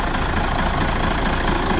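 A six-cylinder diesel engine on a car ferry at Srisawat runs at very low revs, a loud steady rumbling drone with a faint knocking texture.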